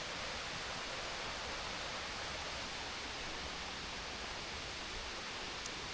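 The Sai Yok Noi Waterfall in heavy flow after rain, a constant, dense roar of rushing water that fills the whole stretch evenly with no other sounds standing out.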